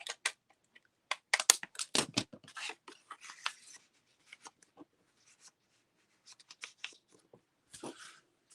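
Crisp snipping and rustling of paper or plastic in short bursts, pausing, then a few more cuts; close and fairly quiet with no talking.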